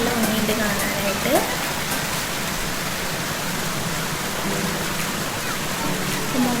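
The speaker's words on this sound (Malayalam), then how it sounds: "ഇവിടെ ഒരു ചെറിയ വെള്ളച്ചാട്ടമുണ്ട്." A small waterfall below the Calicut airport runway, with water pouring down from above: a steady, close rushing hiss throughout. Brief voices are heard faintly beneath it.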